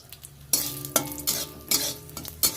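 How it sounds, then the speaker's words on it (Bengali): Dried red chillies fry in hot oil for tempering, a crackling sizzle broken by several sharp clanks of a spoon stirring against the pan, close and without speech. "ফোড়নগুলো একটু লাল করে ভেজে নিতে হবে"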